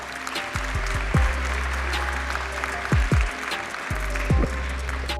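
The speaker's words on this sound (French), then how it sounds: "je vous demande de les applaudir" Attendees at a municipal council installation meeting applaud the senators present, a steady, dense round of clapping from a sizable room, with a few low thumps of handling noise underneath.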